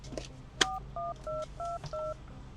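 A phone number is punched in on a telephone keypad: a quick run of about six clean two-tone beeps, evenly spaced and fairly loud, after a short click, with a faint low hum beneath.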